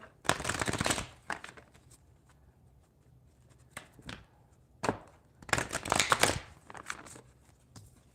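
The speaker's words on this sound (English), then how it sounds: "let me get a couple shuffles in here" Tarot cards being riffled and shuffled close up, in two bursts of rapid crisp flutter with softer taps and slides between them.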